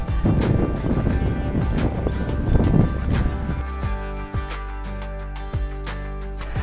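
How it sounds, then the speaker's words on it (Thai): Wind blows across the sea near the coastal temple of Wat Khun Samut Chin in Samut Prakan, Thailand, a constant loud rushing buffet against the microphone that eases in the second half as a faint tonal hum emerges. "ลมพัดเย็นสบายนะทุกคนสดชื่นมากเลยฮะ"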